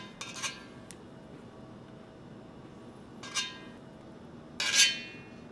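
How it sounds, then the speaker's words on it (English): A thin metal spoon skims fat off ox bone broth for hangover soup, making three brief clinks against the pot with quiet simmering in between. "We gotta remove this. I will use my thin spoon."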